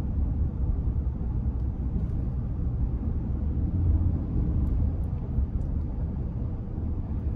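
A 2024 Toyota Tundra Limited Nightshade with the i-Force MAX 3.4-litre twin-turbo V6 hybrid gives a steady, deep engine and road rumble from inside the cabin under acceleration, droning evenly with no voices.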